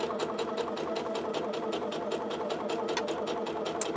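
A sewing machine stitches a denim holiday stocking, a fast, steady mechanical whir with rapid regular needle clicks running continuously, close and alone without talk.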